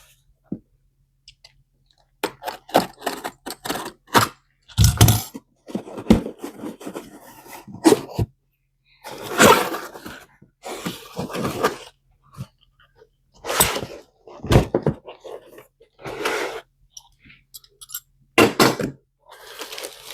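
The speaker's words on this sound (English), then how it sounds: "I'm going to start unboxing this" Weatherby Vanguard Weatherguard rifle in 25-06 being unboxed: scattered clicks, cardboard and packing rustles, and handling knocks in irregular bursts, close and fairly loud, with quiet pauses between.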